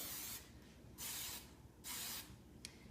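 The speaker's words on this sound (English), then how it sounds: "you can smooth it out in hairspray." Hairspray hisses onto hair in three short, soft aerosol bursts, quiet and close, with the last one only a quick puff.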